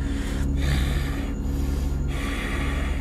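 A narrator imitates angry heavy breathing with loud, close, rough breaths and snorting exhalations, three or so forceful puffs spaced about a second apart, performed by voice.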